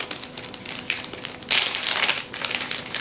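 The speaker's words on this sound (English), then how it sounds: "And the dowels come in a plastic bag like this." Close, steady crinkling of a plastic bag holding wooden dowels for a yarn swift, soft rustling that grows sharper and busier about halfway through, with no talking.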